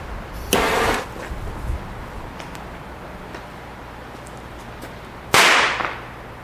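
Outdoors, two sharp firecracker bangs a few seconds apart go off to scare away a bird, each followed by a short echoing tail. A low engine hum and faint rustling sit underneath.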